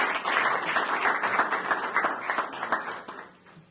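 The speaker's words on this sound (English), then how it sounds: "I request you to give a warm round of applause to Mr. Andy Shenoy." Audience applause at a New Year get-together, a dense, steady clapping from many hands that carries on for several seconds and then begins to thin out near the end.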